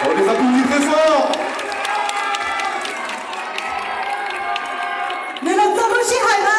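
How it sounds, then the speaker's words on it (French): A crowd cheering and applauding loudly at a New Year celebration event, steady massed clapping and shouts mixed with music and an announcer's amplified voice. "On les applaudit très fort."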